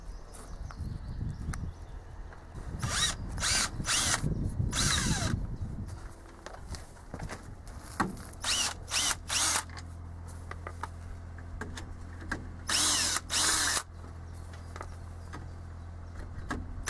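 A power tool whirs in repeated short bursts, loud and close, working loose the nuts on a car wheel, with clanks between the runs.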